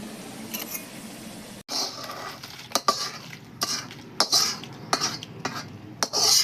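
Dry red chillies being stirred and roasted in a pan for a Telangana sesame mango pickle, with a series of sharp scraping and clinking strokes of a spoon against the pan over a steady low sizzle.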